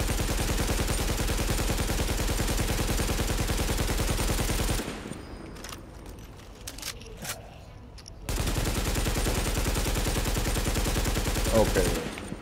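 Automatic AK rifle fire in the shooter game Tom Clancy's The Division, a dense continuous stream of rapid shots that stops briefly before resuming at the same steady pace.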